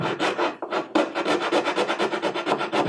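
A small file rasps along a wooden edge, bevelling it, in a fast regular run of close, loud scraping strokes. After a brief hitch near the start, about a dozen even strokes follow with no voices.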